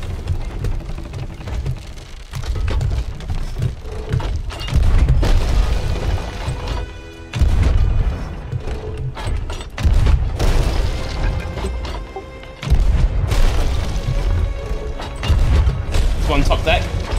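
Ship cannon fire in the pirate game Sea of Thieves, heavy booming blasts recurring every few seconds over rushing water and rain-like noise, loud and close, with players talking in between.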